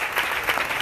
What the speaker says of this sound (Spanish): Dale un fuerte aplauso al Cristo de la gloria.